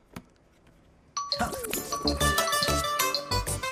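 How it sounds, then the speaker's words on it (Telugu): A phone message notification dings with a brief tone near the start, then a louder, dense run of bright chiming, jingling tones fills the rest of the clip. "సూర్య, మెసేజ్ వచ్చింది సార్."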